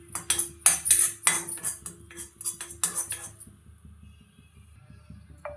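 Kasuri methi is dry-roasted and stirred in a kadai, with rapid, irregular spatula clinks and scrapes against the metal for about three seconds, then fading to near quiet with a final clink.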